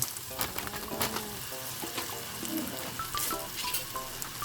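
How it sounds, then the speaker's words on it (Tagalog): Pasta sautéed with margarine in a pan for sopas gives a steady close sizzle and crackle, broken by occasional light clinks and stirring scrapes, with no talk. "Ginigisa ko sunod yung pasta dyan"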